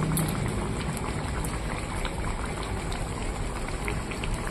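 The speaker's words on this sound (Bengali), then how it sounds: "টক বক করে ফুটছে" Katla fish curry in oil and chili masala bubbling in a pot over an indoor stove, a steady dense simmer of small pops and bursts, close and fairly loud, with no talking.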